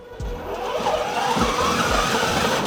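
A car's engine runs at a steady idle as it is shifted from drive into reverse, with a few low thumps as the gear engages, close and fairly loud, no talking.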